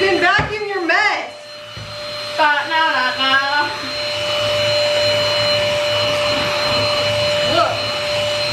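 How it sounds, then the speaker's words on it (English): A vacuum cleaner runs steadily and loudly with a constant whine throughout, while people talk over it during the first few seconds. "You can vacuum your mess."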